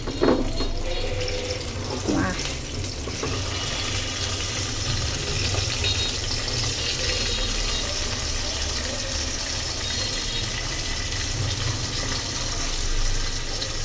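Hilsa fish fries in hot oil, giving a steady, loud, broadband sizzle and crackle close by that runs without a break. A few faint clinks sit underneath.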